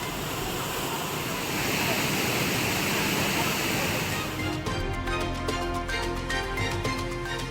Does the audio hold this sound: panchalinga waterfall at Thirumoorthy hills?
yes